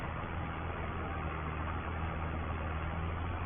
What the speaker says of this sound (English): We've gone up a gear with the tractor